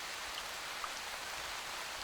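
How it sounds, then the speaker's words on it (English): A rain downpour falls in a soft, steady hiss, fairly faint and even throughout, with a few isolated drops standing out and no voices. "the little rain cloud gives everything it can and starts the downpour again."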